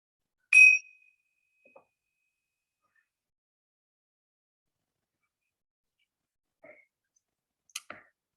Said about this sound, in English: I'm going to ring the bell again, and you can open your eyes again.